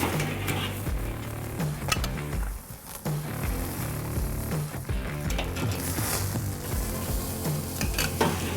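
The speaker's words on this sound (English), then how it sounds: "get that cold side over the fire. And we're going to sear this for 1 minute per side 4 times" Ribeye steak searing over the hot fire of a kettle grill with a Slow 'N Sear insert, a steady close crackling sizzle running throughout with scattered sharp pops and ticks.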